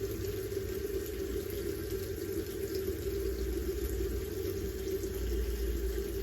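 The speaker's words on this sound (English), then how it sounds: "I wet it with warm water." Warm tap water runs steadily from a faucet to wet a paper towel, a soft continuous splashing stream at moderate distance with no voices.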